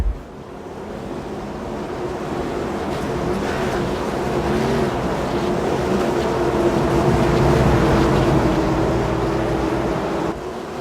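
Race cars roar around the fast short track at Richmond in a NASCAR racing game, a steady, loud engine drone building and holding for several seconds with no speech over it.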